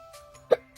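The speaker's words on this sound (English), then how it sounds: "I got the hiccups, sorry." A single sharp hiccup, close and fairly loud, during a makeup session, briefly preceded by faint breathy sounds.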